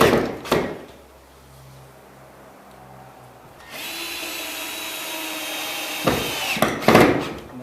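A power drill driving screws through 5/8-inch sheetrock into wood backing for a ceiling patch, with short whirring bursts, a sustained steady drive in the middle, and bumps and handling noises around it.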